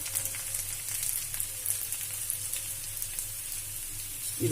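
Grated coconut and onion roast in a pan over a gas flame, giving a soft, steady sizzle and crackle with no talk.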